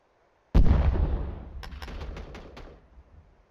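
A single heavy gunshot in the military shooter Arma 3 booms loudly, then rolls away in a long echoing tail with a few faint distant pops behind it.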